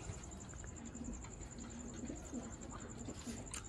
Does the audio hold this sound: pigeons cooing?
yes